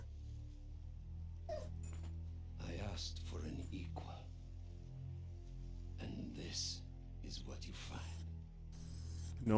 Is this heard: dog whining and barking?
yes